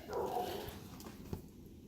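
In a snowy backyard, a dog gives a short, faint whimper and yip as birds come to a suet feeder, with a soft noise floor behind it.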